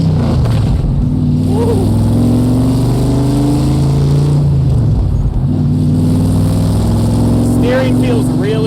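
A Shelby Cobra replica in Florida accelerates through the gears, a deep, loud engine drone rising and dropping with each shift, heard from inside the car, with a brief voice exclaiming.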